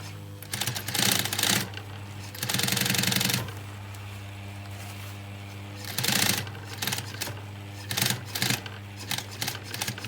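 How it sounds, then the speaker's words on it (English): A sewing machine stitches a leather jacket through the original stitch holes in several short bursts of rapid mechanical clatter, separated by pauses where a steady low motor hum continues, with no talking. "I'm trying to sew it right into the original stitch holes."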